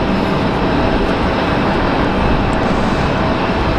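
A Delta Connection CRJ regional jet operated by Endeavor Air, arriving from LaGuardia at Raleigh-Durham, produces a loud, steady rumbling roar held evenly from start to finish, with no talking.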